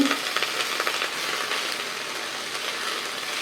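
Radish greens sauté in a hot pan with a steady, close sizzle and occasional stirring scrapes; no one speaks.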